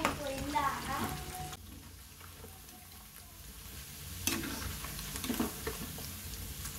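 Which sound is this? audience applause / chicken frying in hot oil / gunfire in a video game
chicken frying in hot oil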